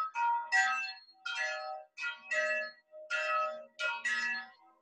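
Loud bells ring outdoors in a garden in a series of strong, ringing strikes with overlapping tones, close and clear with no talking.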